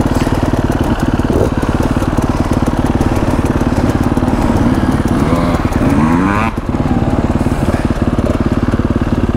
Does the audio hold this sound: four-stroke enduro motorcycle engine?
yes